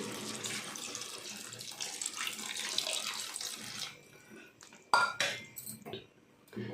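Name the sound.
water poured into curry pot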